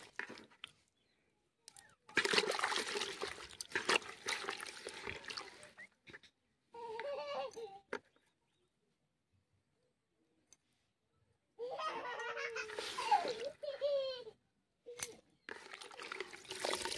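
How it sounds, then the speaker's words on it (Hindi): Bathua greens being washed in water, with sloshing and trickling in bursts separated by pauses, up close, and a bird or other background calls audible between the splashes. "अबा तो चलिए बथुआ आप धो लेते हैं।"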